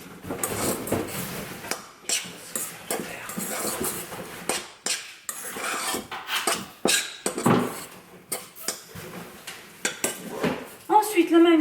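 A utensil clatters and scrapes around a bowl as food is mixed, with busy irregular knocks and clinks close by, and no voice heard.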